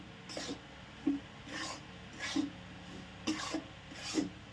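Fine wheat flour with ghee is stirred in a pan for coconut sukhdi. About five rhythmic rasping scrapes of the spoon drag across the pan at roughly one-second intervals, close and alone.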